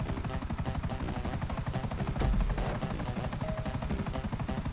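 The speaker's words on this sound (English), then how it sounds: "A helicopter race." In GTA 5 Online, a helicopter in a race gives a steady, close rotor chop that pulses rapidly and loudly throughout, with no talking.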